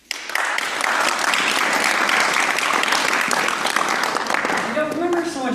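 Dense, loud applause from a school audience of students at a college kickoff event, sustained and close, with a voice starting to speak as the clapping continues at the end.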